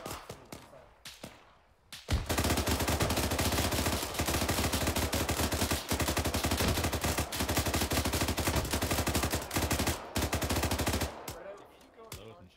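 Heavy automatic gunfire from a big gun in the military shooter ArmA 3, a dense, loud sustained burst lasting about nine seconds after a brief lead-in, ending abruptly, with no talk over it.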